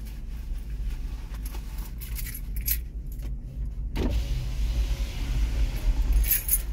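Keys to a 2020 Ford Transit Connect jangle in short, bright metallic bursts, with a sharper clink partway through, against the low hum of a vehicle interior.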